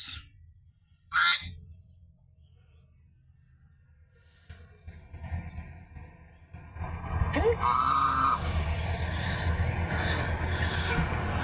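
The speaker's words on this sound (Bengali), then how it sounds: "এটা আমাদের হাঁস রাজহাঁস চীনাহাঁস কিছু দেশি মুরগি" Duck and goose calls, a few honks and quacks, rise out of a noisy farmyard with chickens, people's voices and general bustle around them.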